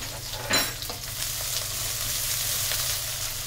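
Cumin and onion hiss and sizzle in hot oil in a pan for a potato, cabbage and pea dish, a steady close frying sound with a brief louder burst near the start.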